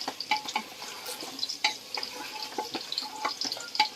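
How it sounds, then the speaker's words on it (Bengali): An egg fries in a hot pan with a crisp, continuous sizzle and spitting crackles, close and moderately quiet, with no talking. "ডিমটা ভাজা হচ্ছে"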